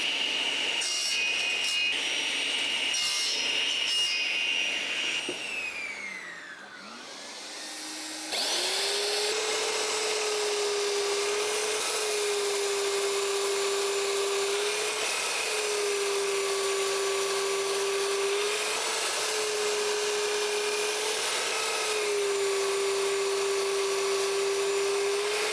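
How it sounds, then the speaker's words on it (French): A power saw cuts laminated wooden drawer handle legs, then a tool sands them in a long steady whine with repeated slight dips in pitch. The sound is loud and close, with no talk. "je vais couper les pattes aux dimensions que j'avais dit, c'est-à-dire 4 cm. Je vais le poncer"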